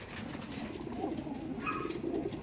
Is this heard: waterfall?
no